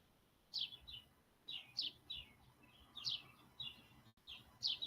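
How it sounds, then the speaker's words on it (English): Sparrows chirp outdoors in quick paired bursts that repeat steadily, faint and a little distant, over a quiet background. "You can hear the sparrows out there."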